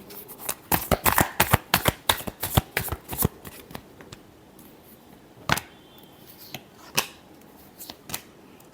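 Tarot cards shuffled up close: a rapid run of crisp riffling slaps and flicks for a few seconds, then scattered single taps and card handling sounds, with no talking.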